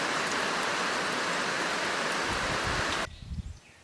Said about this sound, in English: Now we have a rain shower coming through.